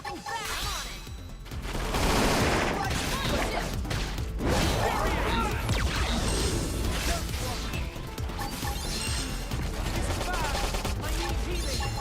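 Guns firing during a busy battle in Xenoblade Chronicles X, loud repeated blasts and crashing impacts layered over constant combat noise and voice callouts.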